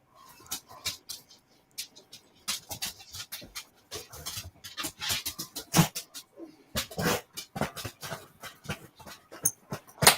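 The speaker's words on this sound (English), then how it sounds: "Dogs are happy to be back in, I think." Dogs back indoors pant in quick, uneven bursts close by, broken up with soft whimpers and shuffling movement.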